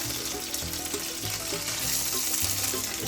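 Pepper steak fries in avocado oil in a pan, a loud, dense, continuous sizzle with crackling pops running throughout, close up and without any voices.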